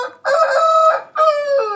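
A rooster crows twice, loud and close, during an evening at a poultry yard. Two strong, drawn-out cock-a-doodle calls come in quick succession, with no voices.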